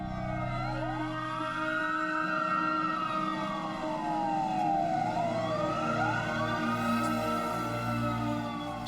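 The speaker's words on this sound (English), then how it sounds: "he could hear sirens coming from miles around" Emergency vehicle sirens wail from miles around a bridge in Washington where a Boeing 747 crashed. The tone rises and falls continuously, steady and somewhat distant, with no voices.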